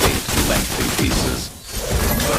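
Granger in Mobile Legends lets off a loud, dense barrage of overlapping game shots and impact blasts, nearly continuous with a short dip before resuming.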